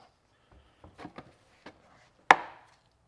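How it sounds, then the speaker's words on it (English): A few soft taps and fumbles, then one sharp, loud click as a plastic connector snaps into place, close by in a quiet room. "just push it together. Hear the click?"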